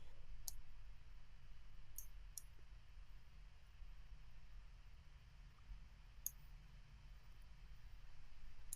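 Sparse mouse clicks, roughly five sharp ticks spread irregularly, while cropping a photo in Lightroom Classic with the crop frame tool; faint and close over a steady low hum, with no voice.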